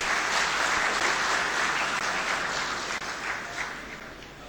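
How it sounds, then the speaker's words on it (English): Steady, dense applause from a conference audience at a panel discussion in Lahore, sustained for several seconds with a slight fade toward the end, no speech over it. "Can you please give our panel a very big round of applause?"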